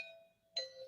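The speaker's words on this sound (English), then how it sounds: "that's my doorbell" A doorbell chimes in a home, two clear tones, the first ringing out and decaying before a second, brighter tone strikes; faint and close, with no talk.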